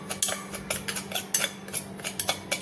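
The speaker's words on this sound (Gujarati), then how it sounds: "લાલ મરચું પાવડર લઈશું અને મીઠું લેવાનું છે અને બે વસ્તુને બરાબર મિક્સ કરી લેવાનું છે" A spoon mixes red chili powder and salt in a small metal bowl, making quick repeated scraping clinks in an even rhythm, close and moderately loud, with no voices.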